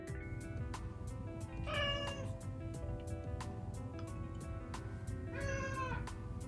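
A black cat meows twice, a drawn-out call early on and another near the end, each clear and close over a steady low room hum, with no talking.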